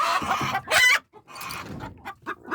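A hen clucks loudly in bursts of agitated squawks with short pauses between them, close by and with no talk over it.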